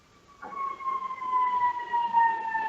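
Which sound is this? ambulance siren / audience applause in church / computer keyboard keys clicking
ambulance siren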